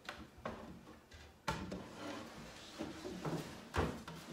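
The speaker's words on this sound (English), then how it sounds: "It's just a quieter slide and it's not dragging and catching on anything." A wooden drawer slides back into its cabinet with soft rubbing glides and a few light thumps and bumps. The sound is quiet and close, with no speech.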